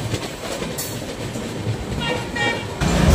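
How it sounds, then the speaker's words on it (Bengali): Brahmaputra Mail train rolling slowly toward New Cooch Behar station, a steady rumble of rail wheels and carriage noise throughout, growing louder near the end, with faint voices in the background. "ট্রেনটি দেখা যাচ্ছে ইঞ্জিন ধীরে ধীরে প্ল্যাটফর্মের লাইনে চলে যাচ্ছে"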